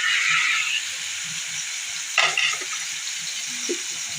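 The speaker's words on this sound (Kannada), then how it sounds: "ನೆಕ್ಸ್ಟ್ ಟೊಮೊಟೊ ಹಾಕಿ ಚೆನ್ನಾಗಿ ಬಾಡಿಸಿ ಟೊಮೊಟೊನ ಅದರಲ್ಲಿ ಎಣ್ಣೆಯಲ್ಲಿ." Tomatoes sizzle steadily in hot oil with garlic in a pan for a fenugreek egg curry, a close, even frying hiss. A brief scrape of stirring comes midway.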